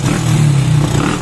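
Honda Wave 100 motorcycle engine idling unevenly and misfiring on CDI without a battery, a loud close low throbbing drone with a slightly ragged pulse and no voices.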